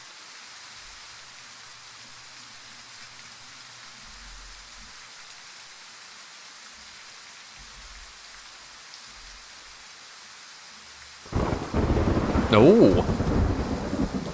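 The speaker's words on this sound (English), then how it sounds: "This might be our first thunderstorm in the game, too." A thunderstorm in the Way of the Hunter hunting game opens with quiet rain, then a loud crack of thunder bursts in and rumbles heavily for several seconds over steady rain, with a brief exclamation from a voice.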